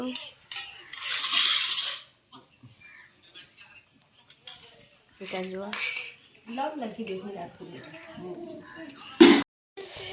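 Cutlery clinking and scraping against dishes during a home meal of dal and rice, with intermittent clatter and a sharp clink near the end, and people talking between the sounds.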